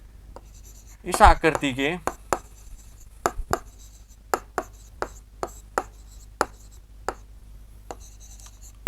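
Writing on a board during a Class 6 maths lesson on fractions, a string of short sharp taps and strokes with even gaps, following a few spoken words near the start.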